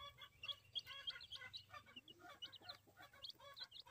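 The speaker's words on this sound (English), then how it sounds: "I just love baby chicks. I love big chickens too." Hens and young chicks in a backyard homestead flock, with busy overlapping clucks and high peeping chirps scattered throughout, close and moderately loud, no talking.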